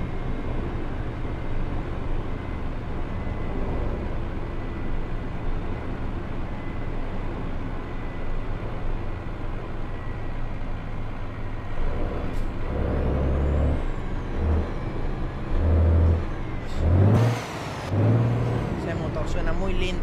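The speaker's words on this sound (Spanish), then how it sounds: "Escuchemos el motor." Truck engine in American Truck Simulator, hauling an excavator, with a steady low drone that runs throughout and hisses and revving bursts toward the end.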